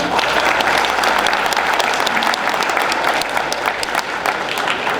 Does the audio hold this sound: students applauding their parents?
yes